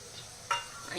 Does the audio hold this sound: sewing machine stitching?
no